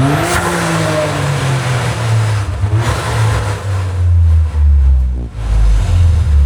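Toyota GR Corolla revving with a combined note from its exhaust, intake and blow-off valve, loud and close, rising and falling in a few strong pulls with a sharp dip near the end.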